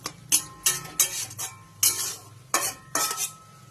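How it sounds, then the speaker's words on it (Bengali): A spoon stirs peas with salt and turmeric in a pan. There are several distinct metallic scrapes and clinks in uneven bursts over a faint sizzle, close by. "আমার মটরশুঁটি দিয়ে দিলাম। ভালো করে নাড়াচাড়া করে নেব।"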